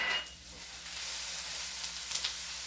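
A faint, steady sizzle of onions frying in a pan as salt and ground pepper are stirred in, with a soft hiss and a few light scrapes near the end.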